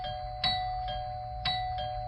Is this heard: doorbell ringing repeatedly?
yes